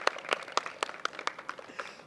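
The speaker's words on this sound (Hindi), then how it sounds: "बिल्कुल सही है, जोरदार तालियां।" An audience at a Buddhist vihar gathering in Nagpur claps in crisp, fairly regular bursts, a modest crowd whose individual hand claps stand out distinctly against a quiet room.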